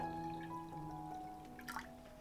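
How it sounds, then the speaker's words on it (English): Water pouring into a cooking pot on the stove for boiling potatoes, a soft steady trickle heard faintly at close range under a low kitchen hum, with no talk. "I'm pouring in plenty of water for our potatoes to boil away in later"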